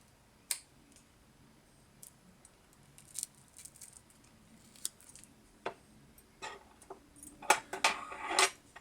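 Scissors snip through foam backed with double-sided adhesive during assembly of a small drone, giving sparse, quiet, close clicks that cluster into a quicker run of cuts near the end.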